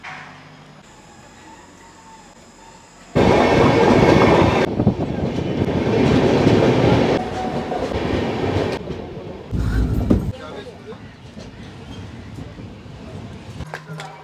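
A train thunders through a station without stopping on the Kolkata to Dooars route, a loud rush of wheels and carriages that starts abruptly, roars for several seconds, then fades before another short burst.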